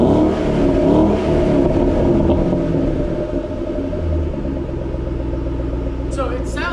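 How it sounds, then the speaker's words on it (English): A brand-new Ford Shelby GT500 on its stock factory exhaust rumbles and revs loudly up close, a deep sustained engine roar that eases slightly toward the end. "this car is insanely loud from the factory"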